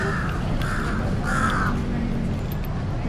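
Several harsh crow caws ring out in a short series over steady background noise in Bangkok, moderately loud and slightly distant.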